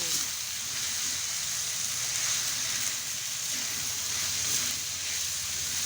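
Sliced muncang leaves sizzle steadily in a hot pan, a continuous close crackling hiss of frying that holds even from start to finish with no talk.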